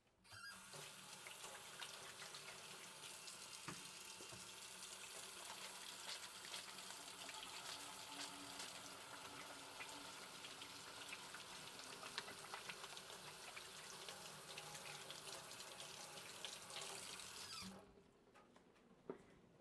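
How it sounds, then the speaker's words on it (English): A kitchen tap runs steadily for most of twenty seconds while hands are washed under it, a continuous close splashing hiss that stops abruptly near the end, followed by a faint clunk. "I'm going to wash my hands first."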